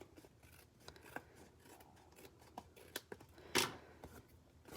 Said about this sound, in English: And then we're just going to trim with scissors